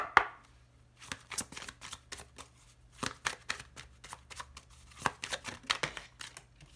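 Oracle cards being shuffled for a card reading, a run of crisp papery riffles and slaps in irregular bursts, close and alone with no talking.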